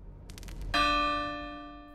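A bright video-game bell chime rings out once as an electrical panel is activated in The Division 2, striking sharply after a few faint clicks and ringing on with a long, slowly fading sustain.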